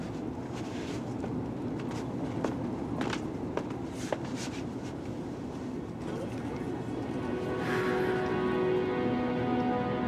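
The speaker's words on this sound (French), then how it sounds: "Oh, il y a même de la pluie." Rain falls steadily in a TV drama episode, a soft even hiss with scattered drip-like ticks that grows slightly louder toward the end, with faint voices in the background.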